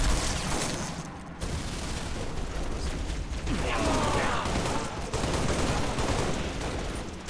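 Enemy gunfire in the Halo video game, dense bursts of rapid shots and mechanical clatter filling the whole stretch at high volume, with faint game voices mixed underneath.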